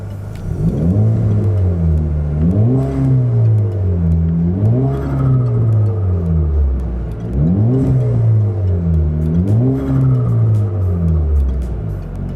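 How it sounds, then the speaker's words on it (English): A car engine fitted with an AETS intake revs repeatedly up close, rising to a loud throaty roar and dropping back to idle several times in a steady cycle. "we'll do a couple sitting here and revving"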